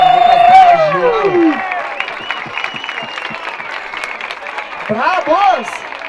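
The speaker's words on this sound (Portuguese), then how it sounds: "Muitas palmas, rapaziada." A live crowd at a Brazilian rap battle applauds and cheers loudly after a verse, with sustained clapping and whoops close by and a host's voice calling out over the noise.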